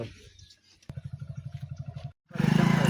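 A motorcycle engine runs close by with a fast, regular putter, then cuts out briefly and returns as a louder, throbbing rev at the end.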